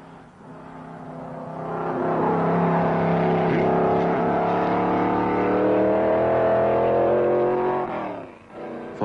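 A Mercedes W125 Silver Arrow racing car from the 1930s drives the Nürburgring, its engine holding a steady, loud, rising drone for several seconds before dropping off.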